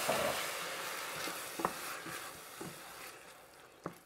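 Chopped tomatoes hit a hot pan over a grill and set off a steady broadband sizzle and hiss, with a few sharp ticks and stirring clatters from the pan through the clip.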